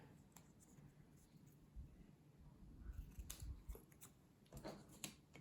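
Scissors snip through a paper card with a series of quick, quiet crunching cuts, clustered in short bursts near the microphone.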